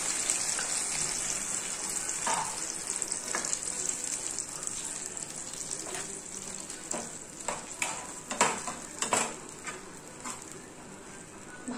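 Water hits a hot pan and is stirred with a Bengali home-style dish, giving steady sizzling hiss with scraping strokes that grow more distinct toward the end, close and alone.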